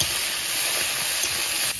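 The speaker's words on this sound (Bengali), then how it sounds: "ফুলকপিটা আমি লবণ দিয়ে ভেজে নেব, যাতে ফুলকপিটা একটু মানে সিদ্ধ হয়ে যায় ভাজার সময়।" Cauliflower pieces frying in oil with salt, heard as a dense, steady close hiss of sizzling that continues evenly for under two seconds.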